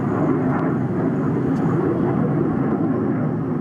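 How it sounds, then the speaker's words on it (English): Turkish military jets take off on an afternoon airbase runway, a loud, continuous broadband engine roar that stays steady and dense throughout, with no breaks or voices. "That is the sound of Turkish military jets taking off early this afternoon."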